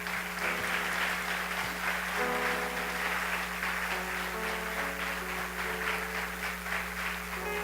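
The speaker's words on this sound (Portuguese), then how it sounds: "Aplauda o nome dele, pois Ele é digno" A church congregation applauds steadily during a Christian worship service. The clapping is fairly faint and sustained, layered over a continuous low hum.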